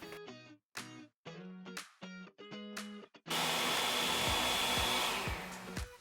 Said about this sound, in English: We are going to use power tools, a leaf blower